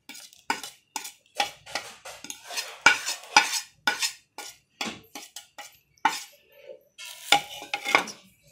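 Spices being stirred into pakora batter in a bowl, with a series of close, irregular scraping and clinking strokes of a spoon against the dish, each stroke short and distinct with brief pauses between.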